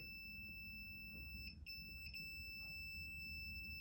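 Two short pairs of high electronic beeps from a multimeter continuity test on a Honda Civic race car's wiring, over a steady low hum and a constant high whine, the beeps clear and close.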